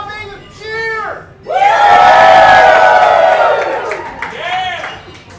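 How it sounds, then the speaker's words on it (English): A roomful of people at a live-streamed gaming event bursts into a loud, sustained cheer with shouts and yells, framed before and after by a speaker's amplified voice. "Can we get a big cheer?"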